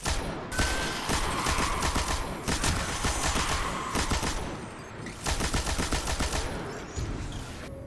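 A heavy machine gun in the video game Destiny fires in rapid, loud sustained bursts, with short pauses between volleys and no voices over the gunfire.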